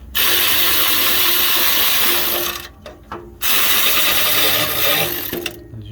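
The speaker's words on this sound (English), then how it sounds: "these electric ratchets, man, they're such a game changer." Electric ratchet spinning out 14 mm starter bolts on a 2012 Toyota 4Runner 4.0, a loud, close mechanical whirring run that stops briefly midway and then resumes.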